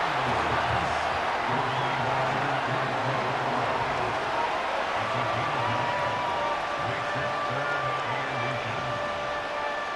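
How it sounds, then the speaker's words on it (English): Dense, steady roar of a stadium crowd at an American football playoff game fills the whole stretch, loud and continuous with a broadcast commentator's voice faintly woven in. "This crowd trying to force a false start here."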